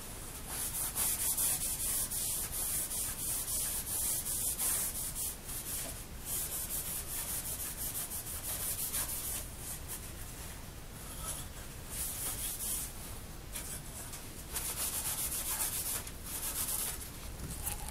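A cloth rubs excess oil off a 1909 Oliver No. 5 typewriter, giving a steady, close, dry scrubbing sound with short strokes over about eighteen seconds and no talk.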